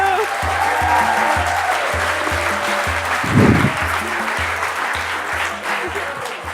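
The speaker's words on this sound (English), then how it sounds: "Round of applause." Audience applause at a WORKTECH 2014 conference talk, a steady wash of clapping across the whole stretch, while a strong rhythmic music beat pulses underneath and a brief shout bursts out midway.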